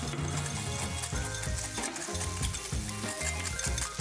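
Ketchup and mayonnaise whisked together in a bowl for a burger sauce, with a quick, repetitive scraping and clicking rhythm of the whisk that stays close and fairly quiet.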